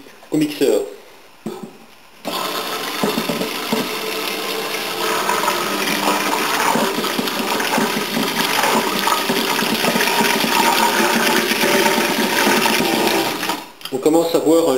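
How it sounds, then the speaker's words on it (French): An electric hand mixer blends a batter with a loud, steady whirring drone that runs for about eleven seconds. Brief handling sounds come before it, and it drops off near the end. "Puis au mixeur."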